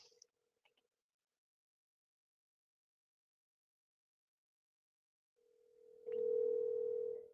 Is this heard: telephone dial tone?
yes